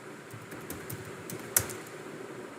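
Quiet keystrokes tap on a computer keyboard while a command is entered, a faint irregular run of clicks with one sharper key press midway.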